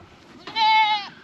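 A single loud, close goat bleat rings out for about half a second in a barn, nasal and wavering, with no one talking.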